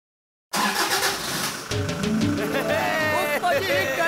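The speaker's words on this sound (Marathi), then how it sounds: "गाडी चालू झाली." A car engine cranks on its self-starter after a brief silence, then catches and runs with rising revs, continuing loudly over background voices and music.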